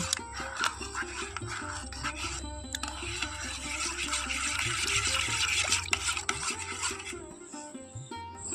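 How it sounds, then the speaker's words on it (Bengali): Sabudana tapioca pearls stirred into cold milk, a steady close scraping and swishing of a spoon working through the thick mixture, running continuously with no voices. "এখন আমি এই সাবুদানা আর দুধটাকে খুব ভালো করে এরকম মিশিয়ে নেব"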